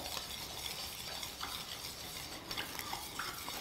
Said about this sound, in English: And all you do is mix all of that